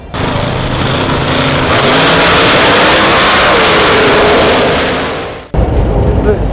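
A top dragster race car engine roars at full, steady volume while accelerating hard down the strip, then cuts off abruptly before a low rumble and some wind follow.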